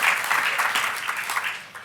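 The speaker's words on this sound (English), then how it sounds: "Go ahead and clap, that's good." Steady, moderately loud applause from an audience at an annual youth service celebration in Birmingham, a continuous crackle of many clapping hands lasting nearly two seconds.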